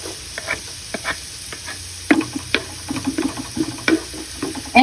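Ginger, onion and garlic sautéing in a pan for tuna and tofu sisig, a soft sizzle under sharp spatula scrapes and taps that grow busier partway through, close by with no talking.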